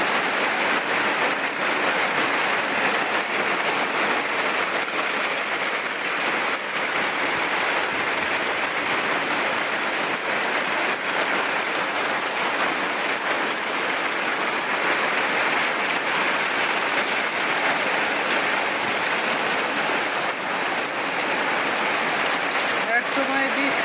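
Steady rain falling, a dense, constant hiss of drops on surfaces that stays loud and unchanging throughout, with no clear voices.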